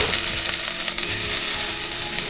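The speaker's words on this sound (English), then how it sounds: "In goes the garlic." Garlic hits hot oil in a frying pan with a steady, loud sizzle and crackle close by, continuous throughout with no talking.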